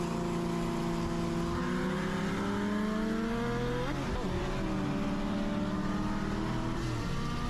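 A built 4.6 V8 car races a turbo Honda in a drag race, engine revving hard with rising pitch sweeps through gear changes, loud and continuous, with a brief dip mid-run.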